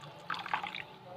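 Cold water is poured in small amounts into dakkous, an Egyptian tomato sauce, to thin it. The clip is quiet, with soft close splashes and trickles lasting under a second and no talk.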